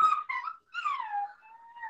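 Puppy whimpering and whining in high, drawn-out sliding cries, two or three close, clear whines with a brief pause between them.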